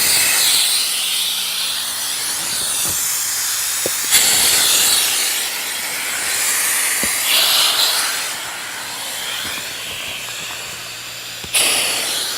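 Air hisses loudly out of the open valves of a Kampa Ace AIR 400 inflatable caravan awning as it deflates, a continuous broadband rush with a few sharp clicks and shifts in intensity.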